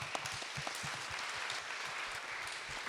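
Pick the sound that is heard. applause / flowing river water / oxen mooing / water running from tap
applause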